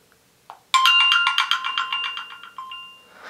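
The Blip message alert tone rings out from a Motorola Moto G phone speaker, a quick cluster of bright chiming pulses that decays over about three seconds, preceded by a couple of faint taps.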